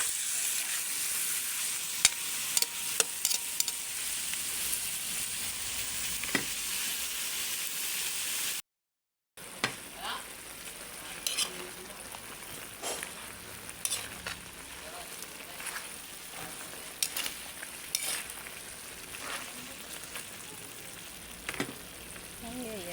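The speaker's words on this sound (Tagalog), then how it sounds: "So guys, halo ko na yung potato and carrots guys" Potatoes and carrots fry for chicken curry with a steady close sizzle, while a spoon stirs them through the pan with intermittent clacks and scrapes; a brief silent gap breaks the sound partway through.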